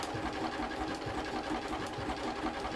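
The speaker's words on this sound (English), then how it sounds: "So if you've never used blanket stitch on your machine before" A sewing machine running a small blanket stitch along the edge of a fabric animal cushion gives a steady, close, rhythmic mechanical whirr that holds evenly throughout.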